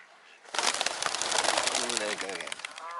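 Three white pigeons coo and flutter close by in a burst of busy, layered bird sound, with a person talking over them.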